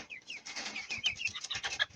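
Chickens of the Dumpo strain, large young roosters and hens, cluck and call in a coop, a steady run of close, overlapping bird calls filling the whole stretch.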